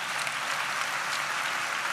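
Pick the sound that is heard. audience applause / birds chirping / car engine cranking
audience applause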